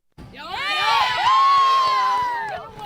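A crowd at a high school football game between Salamanca and Fredonia breaks into a loud cheer of shouts and whoops that swells quickly and holds for a couple of seconds before easing off, with no talking over it.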